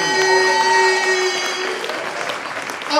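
Audience applause at the Arubuntu 2010 awards ceremony as a Burkinabè rapper is called to the stage, steady dense clapping with some crowd noise, loud and continuous with a faint musical tone early on.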